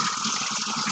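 Running water pours steadily over a plate being rinsed during hand dishwashing, a brief, even splashing rush with no talk.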